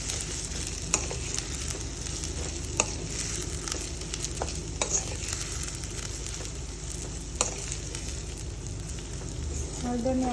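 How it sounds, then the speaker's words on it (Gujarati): Green turmeric cooking in ghee gives a continuous moderate sizzle, with occasional sharp spoon scrapes and taps from stirring close by. "હળદરને આપણે 5 મિનિટ સુધી પકાવીશું"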